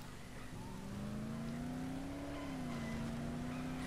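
Car driven fast in the video game Dead Island: a steady, droning engine whose pitch rises slightly and then eases back, with a constant rushing noise and no talking.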